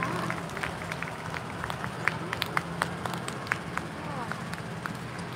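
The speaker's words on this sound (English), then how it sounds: "And we have a round of applause for the driver of the Ford truck." A crowd at a military vehicle demonstration, held outdoors at the Canadian War Museum, gives scattered applause for the driver of a Ford truck. The claps are sparse and sharp, set against a steady background rumble.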